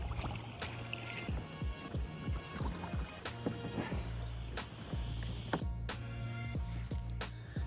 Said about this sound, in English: Took us about 40 minutes of light paddling to get to the other end